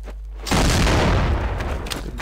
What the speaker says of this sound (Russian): Уже стрельба началась.